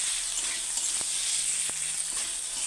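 Peas sizzle steadily in hot oil for a Rui fish curry, a dense, even frying hiss close to the pan with a few faint clinks of a utensil.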